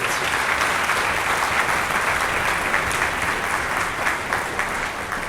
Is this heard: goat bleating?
no